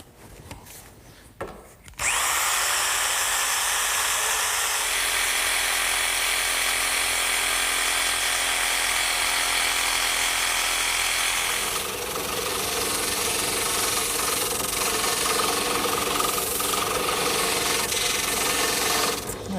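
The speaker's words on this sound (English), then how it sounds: "I'll cut it out using my handheld jigsaw." A handheld jigsaw cuts out a traced poster board template of a rear upright, a loud continuous buzzing rasp that runs steadily for most of the stretch, close up with no talk.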